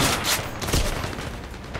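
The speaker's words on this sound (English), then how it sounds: "Okay, where am I getting shot from?" Dense rapid gunfire crackles in a military training level of the shooter game Zero Caliber, rounds coming at the player in a continuous close barrage with no speech.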